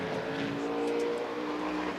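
Race cars at the 2014 24 Hours of Le Mans roar steadily at close range, a sustained engine drone with tonal whine holding across the stretch, no voices over it.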